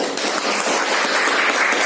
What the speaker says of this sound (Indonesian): Amat tepuk tangan untuk Sani.